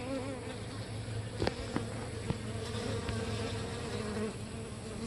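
Honey bees buzz steadily around a hive fitted with propolis traps, a dense, close drone with a few individual bees passing nearby. No voices are heard.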